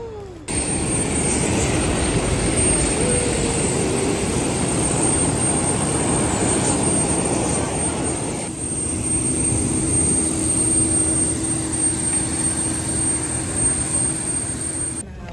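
Steady, loud airliner cabin drone during a commercial passenger flight in Kenya, a continuous broadband roar with a faint whine, shifting to a lower steady hum partway through, with no talking.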